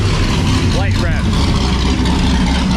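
The cold supercharged LSA V8 in a 1972 Monte Carlo with NASCAR-style exhaust gets a quick light rev over a loud, steady nearby idle, a short rise and fall in pitch before settling back.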